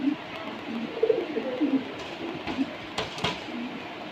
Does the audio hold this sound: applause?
no